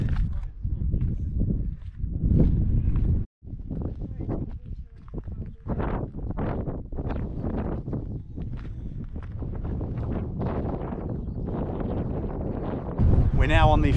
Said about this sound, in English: Yeah, windy. Windy.